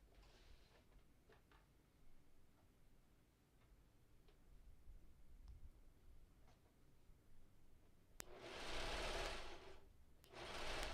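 A serger sewing machine hems the bottom edge of cosplay fabric: faint scattered mechanical ticks at first, then two loud, close bursts of dense whirring stitching near the end. No one speaks.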